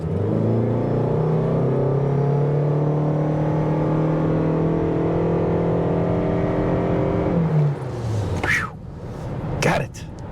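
A 2023 Toyota Crown XLE in eco mode pulls away from a stop, its engine drone rising steadily in pitch for several seconds before easing off, with speech and a couple of brief bumps afterward.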